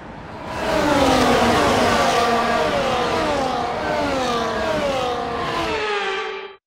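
F1 race cars on a formation lap in the F1 24 video game, shown at Japan: layered engine whines rise and shift as several cars pass close and loud, then cut off abruptly.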